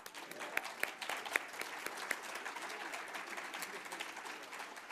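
An audience claps steadily, a dense patter of many hands filling the room, with no voices over it.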